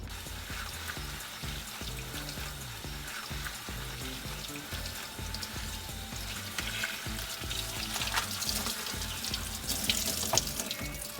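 A head of romaine lettuce is rinsed under a running kitchen faucet, a continuous splashing hiss of water over leaves that grows slightly louder and busier toward the end, with no talking.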